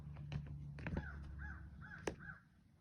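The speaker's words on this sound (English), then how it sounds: "There's a crow in the background." A crow caws repeatedly in the background, four or five harsh calls spaced through a few seconds, fairly distant and over a low steady hum, with no one talking.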